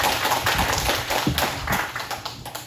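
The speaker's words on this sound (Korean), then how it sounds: "다시 한번 힘차게 박수 한번 해보겠습니다." A church congregation claps loudly together at a Sunday worship service, a dense, sustained burst of many hands filling the room at close range with no voices on top.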